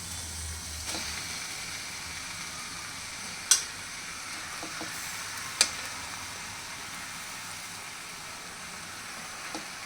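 Mushrooms are added and stirred into a frying pan with fried potato and capsicum: a quiet, steady sizzle with a couple of sharp utensil knocks against the pan.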